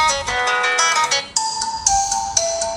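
Ringtone preview on a Tecno Pova 2 phone: a bright melodic electronic tune with stacked tonal notes that shift pitch every half second or so, playing alone at moderate loudness.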